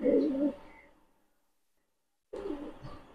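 White Damascene pigeons coo in soft, low, throaty bursts, one at the start and another after a silent pause of nearly two seconds, close by and moderately loud.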